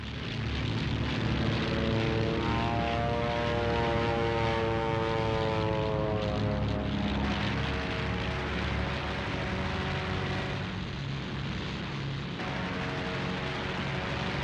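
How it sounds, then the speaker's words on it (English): Propeller engines of Spitfire and Hurricane fighter aircraft drone steadily and loudly throughout, with a rising and falling pitch as the planes pass, and no talk. "And Spitfires and Hurricanes of the RAF."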